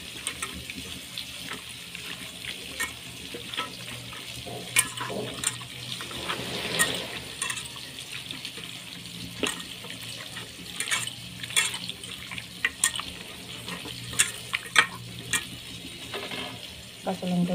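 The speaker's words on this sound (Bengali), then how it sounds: "এবার ভালো করে মাখিয়ে নেব।" Goat mutton is worked over with turmeric, salt, chili powder and cumin powder. The mixing comes through as soft, wet squelching and scattered light clicks, faint and uneven, with no talking.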